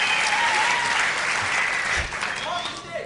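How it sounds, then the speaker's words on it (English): Audience applause at a comedy show, a dense, steady wash of clapping from a large crowd that fills the whole moment and eases off slightly near the end, with voices talking over it. "listen to this applause"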